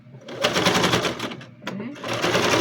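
A sewing machine stitches a seam on a child's backpack in a rapid, close, buzzing run, pausing briefly before a second burst of stitching.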